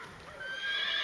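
A former racehorse gives a single close whinny lasting about a second, its high wavering tone rising and brightening toward the end.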